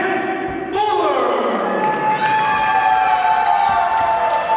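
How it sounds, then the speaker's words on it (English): A wrestling crowd at an NECW event gives a scattered round of applause and cheering for 300-pound champion Big Rick Fuller, a steady, moderately loud wash of clapping and voices that rises slightly midway and carries on throughout. "Fuller getting a smattering of applause"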